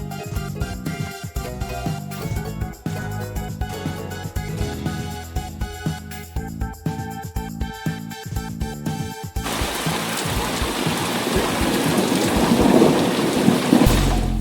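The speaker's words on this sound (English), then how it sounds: "By his orders of Prospero, Ariel raised a violent storm in the sea with a large ship." A violent storm at sea pounds with heavy rain and rumbling thunder, loud and continuous, first with rhythmic crashing hits and then a dense, roaring downpour that swells toward the end.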